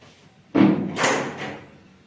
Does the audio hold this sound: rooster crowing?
no